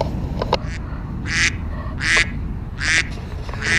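Ducks quack beside a canal on an early morning, several loud, close, nasal calls coming in bursts about every half-second to second over steady outdoor background noise.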